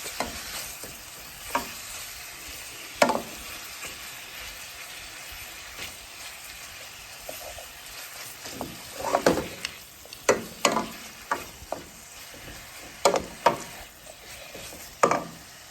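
Vegetables sautéing in oil in a pan for a Caribbean smoked herring dish make a steady low sizzle under irregular, close spoon scrapes and stirs. The strokes grow more frequent in the second half, and no one talks.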